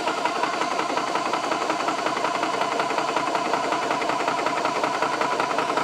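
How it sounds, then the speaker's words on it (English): Nomad II personal air compressor filling an airgun, a steady close mechanical hum with a fast even pulsing rhythm that runs unbroken the whole time, with no talk. "Okay, there's the compressor running."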